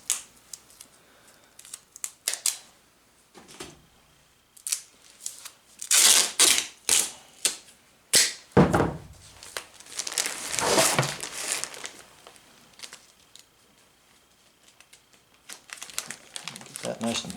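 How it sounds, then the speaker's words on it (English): Standard duct tape being torn and pressed into place: crackling rips and sharp bursts of tape pulled from the roll, some several in quick succession, with crinkling handling between them and a voice talking at times. "I have tons of just standard duct tape hanging around, so that tends to be what I use."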